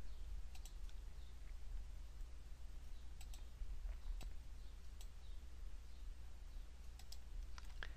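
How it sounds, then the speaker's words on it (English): Faint, scattered clicks come from a computer mouse and keyboard while images are selected in Adobe Lightroom, soft irregular taps over a low steady room hum. "I'm just going to control click on the images that I want to compare"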